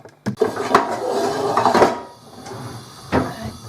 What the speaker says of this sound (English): Okay, so stick the frying pan on to heat.